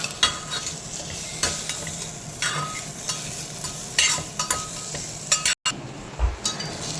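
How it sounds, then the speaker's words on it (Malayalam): Masala for a Kerala-style mutton curry sizzles steadily in a pan while a spoon scrapes through it in repeated close strokes, with a brief break near the end and no talking. "ഇത് നല്ലപോലെ ഇളക്കിയതിന് ശേഷം ഇത് നല്ലപോലെ വഴണ്ട് വന്നിട്ടുണ്ട്."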